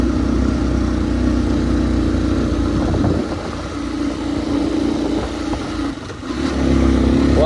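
A Hartford VR motorcycle engine hums steadily while riding around Pokhara, the drone dipping slightly midway and swelling again near the end, with road and wind noise and no talk.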